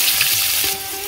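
Chopped onion sizzling in hot oil with whole cumin in a kadai, a loud, close hiss that drops slightly in level after a second, with no talking.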